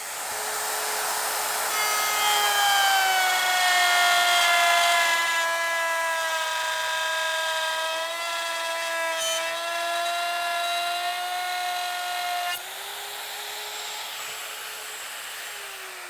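A wood router cutting a dado in a board gives a loud, steady high-pitched motor whine that holds close and continuous, shifting pitch slightly as the bit bites, then easing near the end.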